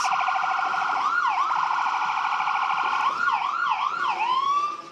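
Gold Cross Ambulance Service ambulance siren passing in the Appleton Flag Day Parade 2023, loud and close, a steady high wail breaking into quick yelping sweeps before cutting off at the end.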